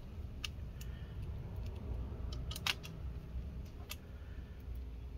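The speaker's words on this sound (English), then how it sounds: "we'll get these three screws back in." Screws are driven back into the fan of a Lenovo IdeaPad 3 15IIL05 laptop: faint, sparse metallic ticks and clicks sound over a low, steady background hum, with no speech.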